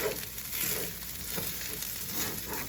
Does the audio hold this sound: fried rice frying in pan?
yes